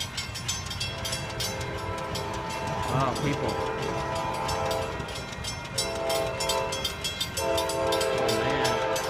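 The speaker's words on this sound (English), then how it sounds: "I'm saying that as I hear a train coming." An Amtrak train passes through an industrial district beside the tracks, a loud sustained rumble with blaring horn blasts and clattering wheels rising and falling throughout, while a person speaks briefly over it.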